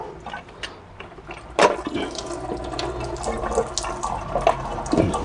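Fluid trickles and splashes steadily out of a Dodge Charger SRT8 6.4 engine during camshaft work, a continuous close-up watery flow with a few louder gushes and drips and no talking.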